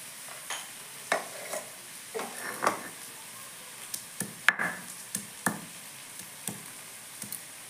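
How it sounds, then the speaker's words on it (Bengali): Onions fry in a pan for a bamboo-shoot chicken curry, with a spatula scraping and tapping at irregular intervals over a faint, steady sizzle. "এদিকে দেখুন পেঁয়াজটা ভাজা হচ্ছে"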